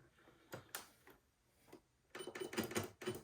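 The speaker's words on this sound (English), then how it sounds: "I've got my sewing machine set to a straight stitch" Soft, quiet mechanical clicks and short ticks, then a burst of rapid, rhythmic sewing machine straight stitching toward the end, close and fairly faint.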